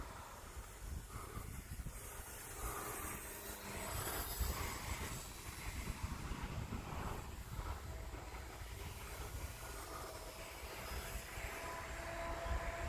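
A small fixed-wing airplane flies in gusty wind, its engine a faint, steady drone with hiss and rushing air throughout, heard from fairly close with no talking.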